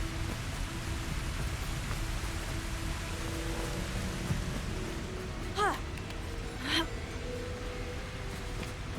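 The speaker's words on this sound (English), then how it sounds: "우물 소리가 난다." Water sounds from a well in Hogwarts Legacy: a continuous, fairly loud rushing hiss like heavy rain, with two brief higher sweeping sounds near the end.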